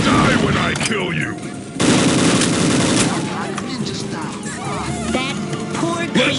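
Ballistic Weapons in Unreal Tournament 2004 fire a loud, dense barrage of rapid shots and blasts that carry on almost without a break, amid layered game effects and voices.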